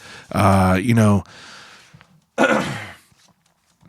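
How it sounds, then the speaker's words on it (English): Two harsh, close coughing bursts, a longer one at first and a shorter one after a pause, with quiet gaps between. "Who knows why I'm coughing, but whatever."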